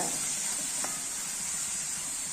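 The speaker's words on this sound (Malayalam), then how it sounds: "സബോള, ഇഞ്ചി, വെളുത്തുള്ളി, പച്ചമുളക്, മല്ലിയില, വേപ്പില ഇതെല്ലാം നമുക്ക് വഴറ്റിയെടുക്കാം" Onion, ginger, garlic, green chili and curry leaves sauté in a pan with a steady close sizzle and hiss, one brief stir clink partway, no talking.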